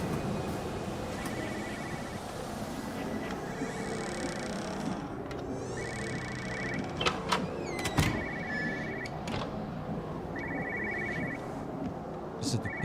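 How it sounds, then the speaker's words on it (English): A printer runs inside a house in the video game Everybody's Gone to the Rapture, making repeated mechanical chattering bursts over a steady ambient hum. Occasional clicks cut through it, and there is no talking. "I hear a printer."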